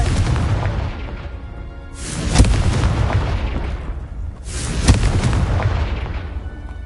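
Two loud, booming fire-blast explosions from the Confringo spell in Hogwarts Legacy, each one a sharp crack that rolls into a rumbling roar, the second blast following about two and a half seconds after the first.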